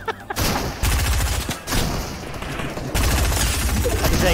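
Rocket launchers fire in Fortnite Season 7 with a dense barrage of loud booming blasts and explosions in rapid bursts, continuous and close throughout, with no talk over them.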